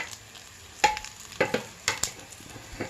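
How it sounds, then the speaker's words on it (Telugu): Tempering spices for radish sambar crackle and sizzle in hot oil, several sharp popping bursts spaced irregularly over a low steady frying hiss, close up with no voices. "ఈ పోపు అంతా కాలినాక"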